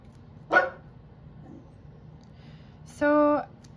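A pet dog barks indoors, one short sharp bark followed by a longer, higher whining bark a few seconds later, both close and clear over a quiet room.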